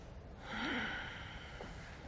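A single soft inhaled breath during a seated yoga class, faint and close, rising briefly and then fading into room hush.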